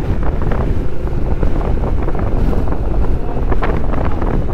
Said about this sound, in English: That wind is blowing it down the face of this hill.